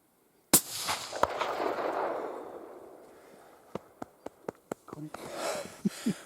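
A hunting rifle is fired at a sika stag at dusk: one sharp loud shot followed by a long rolling echo, then a series of quick clicks as the bolt is worked, with faint voices afterward.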